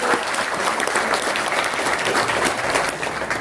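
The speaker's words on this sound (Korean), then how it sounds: "윤창현 교수님 박수 부탁드리겠습니다" Steady applause from an audience at a Korean economic policy forum, a dense continuous patter of many hands clapping at full volume throughout, with no speech over it.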